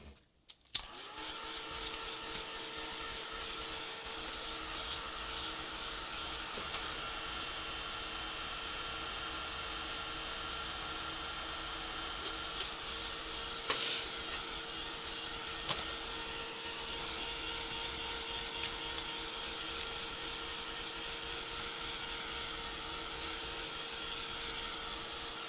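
A heat tool runs steadily, blowing hot air to dry paint on a mixed-media art journal page, a continuous close whirring hum with a faint clack near the start and no talking.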